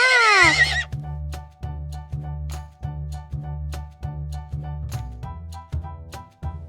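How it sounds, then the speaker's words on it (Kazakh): A foal in a children's puppet show gives one short, high whinny, followed by steady, evenly paced clip-clop hoofbeats. "Құлыншақ."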